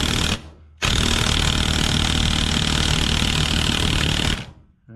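A Porter Cable cordless impact wrench drives a bolt, giving a loud continuous hammering rattle for about four seconds after a brief initial burst, then cutting off.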